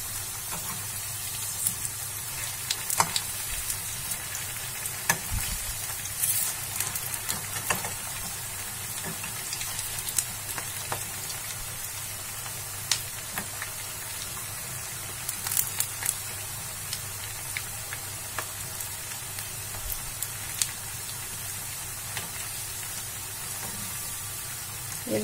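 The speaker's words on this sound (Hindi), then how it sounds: "बना के तेल में डाल दी है। अब इसको मैं पलट लूंगी।" Veg manchurian balls fry in hot oil with a continuous soft sizzle and scattered crackles and pops, all at an even level throughout, with no one talking.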